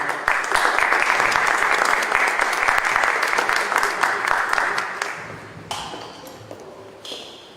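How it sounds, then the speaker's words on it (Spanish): An audience at a lecture on earthquakes in central Mexico applauds to welcome the speaker, with dense, loud clapping that fades after about five seconds into a few scattered claps. "Les pido por favor un aplauso para el señor."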